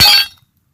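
A glass slab struck with a rock gives a single sharp, bright crack with a brief clinking ring that dies away within half a second, loud and close, then silence.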